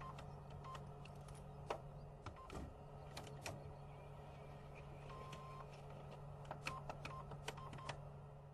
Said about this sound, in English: User enters his PIN by shielding the keypad.